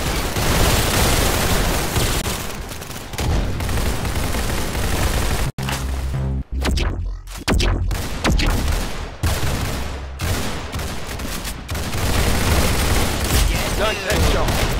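Gunfire in a shooting video game, with dense, loud bursts of rapid shots and booming blasts filling most of the stretch and a few brief lulls in the middle.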